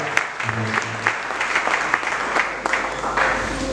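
A church congregation at a thanksgiving service applauds and cheers for the Lord, with steady clapping and crowd noise running throughout and a faint voice briefly audible beneath.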